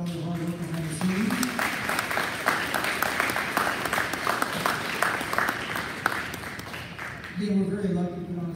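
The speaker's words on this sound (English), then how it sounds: "Let's give them a round of applause for all the hard work behind the scenes." Audience applause at a fifth grade school music concert, a burst of mixed clapping filling the middle of the stretch, with a voice talking before it starts and again as it fades.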